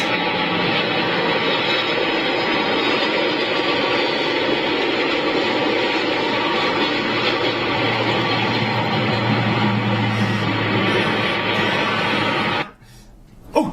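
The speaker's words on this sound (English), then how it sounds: "Plane!" A plane passes overhead, a steady broad engine roar that holds loud and even for about twelve seconds before cutting off sharply, with a brief faint sound near the end.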